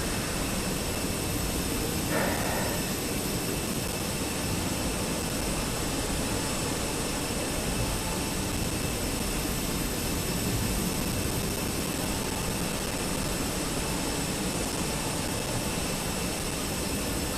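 A departing jet airliner's engines roar steadily and loudly as broadband noise, sustained without a break, near and continuous with no talk.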